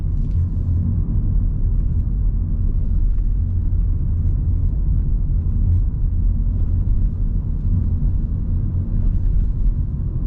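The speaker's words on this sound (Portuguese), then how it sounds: "Agora eu vou ficar quieto para vocês escutarem a suspensão." Low road rumble and steady cabin noise from a Honda Civic Touring 2.0 hybrid sedan driving, with a faint hiss over suspension sounds, continuous and fairly loud with no one speaking.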